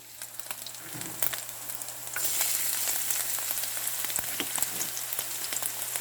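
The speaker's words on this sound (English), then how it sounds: "I'm going to add a little bit of sesame oil, maybe 3 tablespoons, and I am going to add my chopped garlic" Chopped garlic hits hot sesame oil in a pan and bursts into a loud, steady sizzle that holds close and bright, with a few stirring scrapes near the start.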